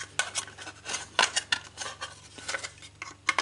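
Short, rasping strokes of a Stanley knife cutting a plastic knockout out of an electrical back box, repeated irregularly and close by, with scraping, snipping bursts and no voices.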